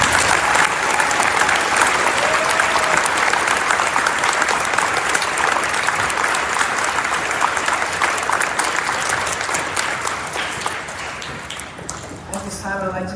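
Sustained applause from a large audience at a school Veterans Day ceremony, steady and loud throughout before thinning toward the end.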